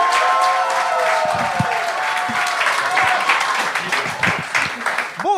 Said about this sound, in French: tout le monde commence à applaudir tout de suite pour le premier